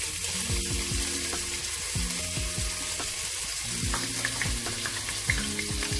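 Ginger garlic paste fries with mixed vegetables in a home kitchen pan, a steady close sizzle and stirring under repeated stepped tonal patterns that sound like background music, no speech.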